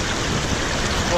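Water in Clear Creek, Colorado rushes and burbles steadily around a gold-prospecting sluice, a close, even wash of flowing stream noise with no break.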